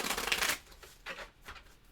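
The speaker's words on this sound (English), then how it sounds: "1 more shuffle here. Make sure this is all randomized." Board game cards being shuffled during a solo game, a loud riffling burst followed by two shorter softer riffles, close up with no talking.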